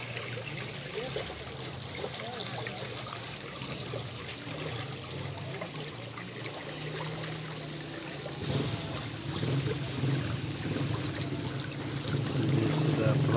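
Fresh water flows steadily through a village, a continuous trickling, babbling wash heard close for the whole stretch and swelling slightly louder toward the end.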